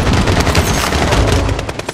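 Loud, dense automatic gunfire from Call of Duty: Modern Warfare, a continuous close rattle of rapid shots that fills the whole moment without pause.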